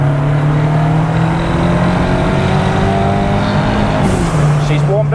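A 340 bhp turbocharged Ford Cortina idles warm with a steady, loud, droning engine note, shifting pitch briefly near the end, while people talk over it.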